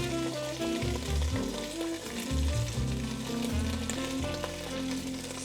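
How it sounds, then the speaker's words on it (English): Hot Italian sausage frying in a covered pan for a gluten-free lasagna, giving a steady, close sizzle and crackle that runs unbroken throughout. "I'm simply gonna place the sausage in. We're using hot Italian sausage"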